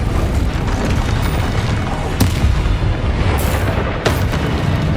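The Bombardo explosion spell going off in Hogwarts Legacy, a loud, dense booming blast that fills the whole moment with sharp cracks near the middle and end.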